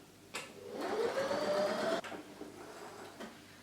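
Sewing machine stitching a quarter-inch cushion seam, a steady whirring motor run of about a second and a half, then stopping with a few soft clicks afterward; near and moderately quiet, no talking.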